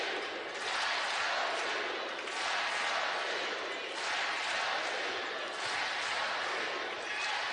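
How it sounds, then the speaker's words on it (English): A crowd at a Duke women's basketball game roars loudly and steadily in a packed arena, sustained cheering swelling in waves with a commentator's voice running over it. "Crowd loud and proud, and they love that play by Odom."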